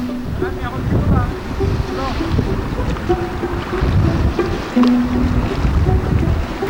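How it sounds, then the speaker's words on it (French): Strong gusty wind buffets the microphone beside a river during a canoe trip, a loud continuous rumble with water and boat noise underneath while people talk over it. "il y a un putain de vent"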